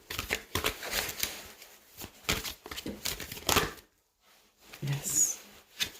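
A deck of oracle cards is shuffled by hand indoors, with a run of crisp riffling and flicking bursts, then a short pause before a few more soft card sounds.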